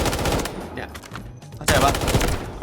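Automatic gunfire bursts from the mobile shooter Delta Force Mobile, loud and dense, with a brief lull partway through before firing resumes hard, a voice faintly under the shots.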